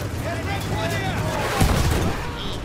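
An explosion in Battlefield 1, a heavy booming blast in the middle of continuous noisy battle sounds, with a voice talking over it.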